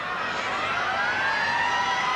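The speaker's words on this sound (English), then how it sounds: "There's the siren in the background." A steady, rising siren sounds over a noisy crowd at a 1992 rugby league match between Illawarra Steelers and St George, marking the end of the game, sustained and continuous throughout.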